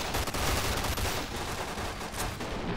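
Rapid bursts of gunfire in a Fallout: New Vegas game with the Tales from the Mojave mod, loud and dense, filling the whole moment with continuous shots and no talk.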